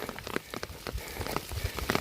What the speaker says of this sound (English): It's definitely starting to rain.